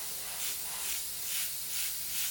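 An airbrush sprays paint while laying colours onto a photorealistic sunset, giving a continuous close hiss that swells and eases in gentle, regular waves.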